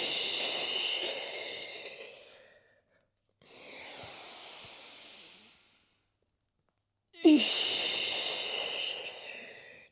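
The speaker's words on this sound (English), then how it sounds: "Full breaths." Deep, full breaths during a kriya breathwork session: three long airy breaths, each a couple of seconds, separated by silent pauses, close and fairly loud, with no talking.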